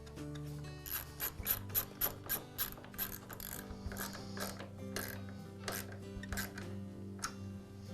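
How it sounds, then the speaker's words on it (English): Washer and nut being tightened on a DeWALT table saw rail lock lever, a run of quick ratcheting clicks followed by softer intermittent clicks, close and quiet, with no talking. "Now install the new rail lock lever and secure it with the washer and nut."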